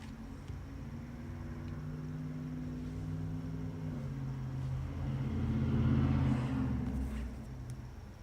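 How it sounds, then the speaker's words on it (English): Traffic outside a room carries in as a low continuous rumble of passing cars, swelling as one vehicle draws nearer then easing off, muffled and fairly faint. "you can hear the cars from outside in this stream"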